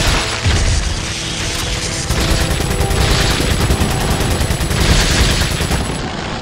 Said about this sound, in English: Excessive gunfire!